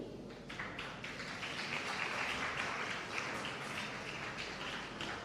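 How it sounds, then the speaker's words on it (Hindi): Sustained applause fills a hall at a women's conclave in Faridabad, dense rapid clapping from a large audience, steady and moderately loud throughout with no talking. "तालियों की गड़गड़ाहट कम नहीं होनी चाहिए"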